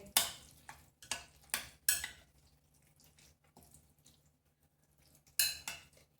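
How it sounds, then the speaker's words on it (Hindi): Grated bottle gourd is stirred into spiced yogurt for a fasting-day raita, giving quiet, wet, squelching spoon strokes in short bursts, a lull, then another round of mixing. "अब इनको भी हम अच्छे से मिला लेंगे।"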